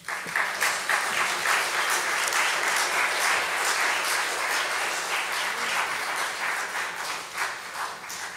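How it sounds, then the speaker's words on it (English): Audience applause after a storytelling presentation about history, steady dense clapping from a crowd filling the whole stretch, loud and even with a slight fade near the end. "Let's give the freed ladies another round of applause for enlightening us to history"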